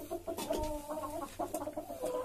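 A hen clucks in a henhouse, close and clear, with a run of short, throaty clucks and a few rising calls in an uneven rhythm over faint background noise.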